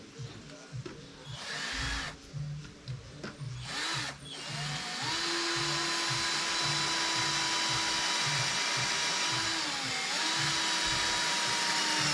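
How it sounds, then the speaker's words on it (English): Electric drill fitted with a bigger bit, running loud and steady for several seconds after a few short bursts and clattering handling noises, its pitch dipping briefly under load. "I just wanted to switch the drills because this has a bigger bit on it."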